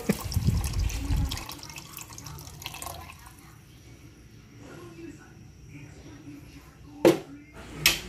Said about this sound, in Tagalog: lalagyan naman natin ng gatas para makompleto ang sopas